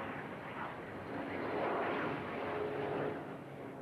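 An unducted fan aircraft engine gives a steady, rumbling roar from some distance at the 1988 Farnborough air show, swelling slightly midway before settling.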